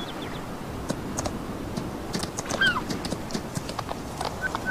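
Horse hooves clip-clopping in Farming Simulator 19 as a sidestepping horse is ridden near a house, a steady irregular patter of light hoof taps over constant game ambience, no talk.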